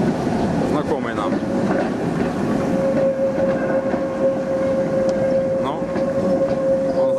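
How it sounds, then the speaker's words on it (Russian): A tram rolls through the streets of old Halle, Germany, its steady rumble and rail noise filling the scene with a sustained whine, while someone speaks over it. "Один трамвай, второй. Это царство трамваев. А вот это чешский трамвай."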